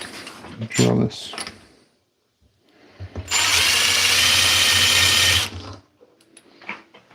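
A power drill whirs loudly in one sustained burst of about two and a half seconds in a workshop where parts are being zip-tied for a Mitsubishi Eclipse, with brief clatter and speech-like sounds before and after.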